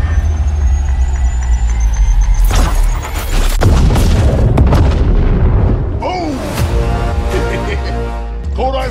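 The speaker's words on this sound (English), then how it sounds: "Grenade." A grenade explosion and gunfire in the Apex Legends battle royale video game: loud, heavy booms and sharp bursts of shots follow one another over a constant rumbling bed, sustained and intense throughout.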